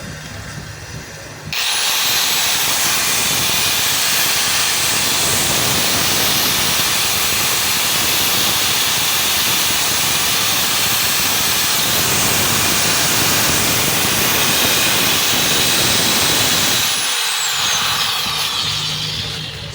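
A DeWalt DWE750S 4-inch angle grinder motor runs freely after repair, a loud steady high-pitched whine and hiss that starts abruptly, holds for about fifteen seconds, then winds down.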